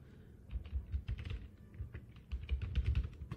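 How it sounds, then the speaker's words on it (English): Fingers tap out a short word on a computer keyboard in two quick bursts of close, crisp clicks, with a brief pause between them. "Now, let me type login."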